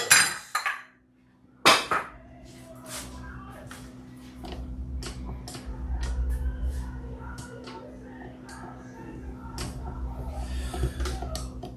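Bowls and dishes clink and clatter as they are cleared away in a home kitchen during cookie baking, a few sharp knocks at the start followed by scattered lighter clinks over a soft background hum.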